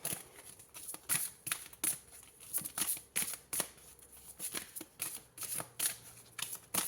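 Tarot cards are shuffled and drawn by hand, giving a series of crisp riffling flicks and soft slaps at an irregular rhythm, close and fairly quiet.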